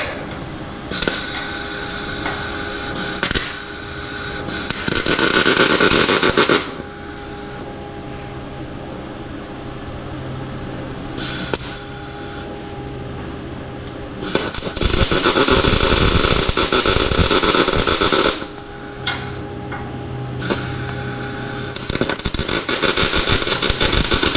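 A MIG welder with shielding gas working on an International C1100 pickup truck build gives several bursts of loud, steady crackling hiss, each a few seconds long, separated by quieter gaps of low workshop hum.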